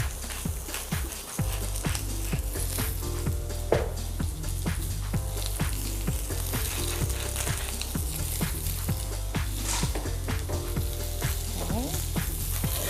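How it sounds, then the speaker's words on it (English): Onions sizzle and fry steadily in a hot pan with salt and pepper, a dense continuous crackle punctuated by occasional stirring clatter, close and fairly loud with no talking. "While the onions are cooking"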